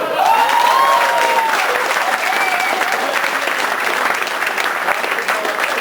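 A comedy club audience in Kėdainiai gives a comedian loud, sustained applause, with dense close clapping and a faint whistle or cheer near the start, fading slightly toward the end.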